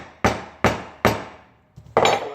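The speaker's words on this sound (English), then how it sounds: "line it up and hit the top of it with a hammer, and it'll form the shape again real nice" A hammer strikes the top of a Harley Davidson screwdriver during a 2002 Honda Rebel 250 carburetor rebuild, four sharp metallic blows spaced about every half second, close and loud, with a softer tap before the last.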